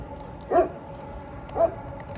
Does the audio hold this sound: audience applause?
no